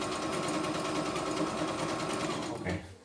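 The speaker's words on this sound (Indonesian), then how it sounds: "Nanti kan habis ini kita akan jahit, bentuk jahitan lubang kancing ya." A CNY E960 multifunction embroidery and sewing machine stitches a buttonhole with a fast, steady mechanical whir that runs without pause, then winds down and stops near the end. No one speaks.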